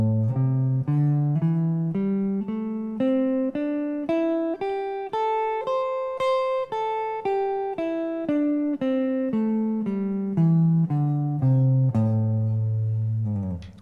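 Electric guitar picks a pentatonic scale with strict alternate picking, running steadily up and back down in evenly spaced single notes, the top note struck twice, close and clean with no talking.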